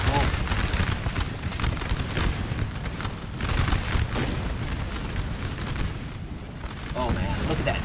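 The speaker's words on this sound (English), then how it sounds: "One volley is all it took, and these infantry from Eugene just broke." A massed infantry musket volley from Napoleonic-era troops in a large French versus Austrian battle in Napoleon Total War: dense, continuous crackling gunfire and booms filling the scene, with talk over the top.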